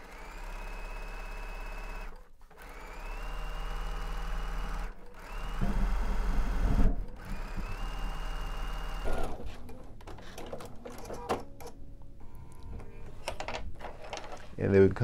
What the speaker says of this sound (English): So now, of course, we'll do some more top stitching, the same thing we did before.